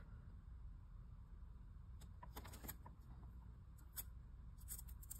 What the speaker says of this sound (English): I just cut like a tiny bit off.